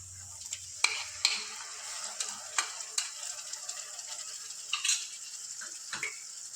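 Tomato paste frying in cooked masala while being stirred, with a steady sizzle broken by repeated scraping stirs of the spoon against the pan, close and fairly loud.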